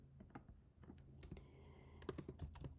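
Names being typed on a computer keyboard, a quiet close run of uneven key clicks with short pauses between bursts.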